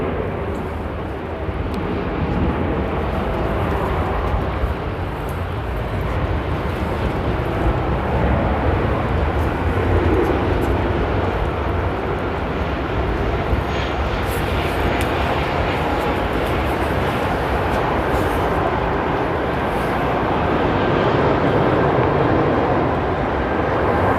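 Turkish Airlines Airbus A350 airliner taxiing at Amsterdam airport, a steady broad jet-engine rumble and hiss that holds for the whole stretch with no talk.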